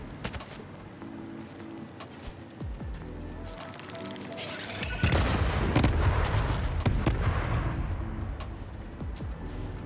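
A sticky grenade goes off against a spider creature in Satisfactory, a sudden loud blast midway that leaves a long, roaring rumble, after scattered clatter and faint game noises earlier.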